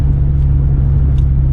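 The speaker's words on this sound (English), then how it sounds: "this is a proper knackered country road, this. So that's why I'm driving down it, because it's awful" A Honda Civic EP3 Type R on yellow coilovers rolls down a battered, bumpy country lane, giving a loud, continuous low engine drone and road rumble from inside the cabin, steady throughout with no talk.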